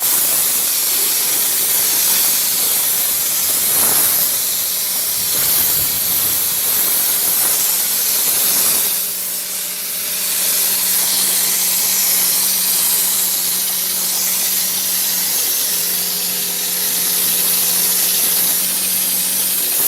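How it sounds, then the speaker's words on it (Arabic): A spray gun applying gelcoat for artificial marble gives a loud, continuous hiss that runs nearly unbroken for about twenty seconds, with a steady compressor hum beneath it and brief dips as the gun pauses. "نبدأ بعملية الرش"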